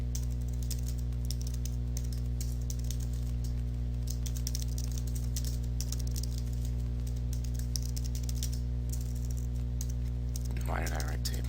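Computer keyboard typing while HTML code is written, steady soft key clicks running throughout over a constant low electrical hum, with a brief louder burst near the end.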